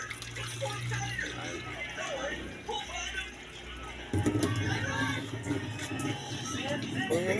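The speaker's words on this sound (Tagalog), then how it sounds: "Lagyan pa natin muna pala ng konting sabaw mga kadaks." Broth pours into a cooking pot outdoors, a continuous splashing liquid sound that grows fuller partway through, mixed with kitchen clatter and voices talking.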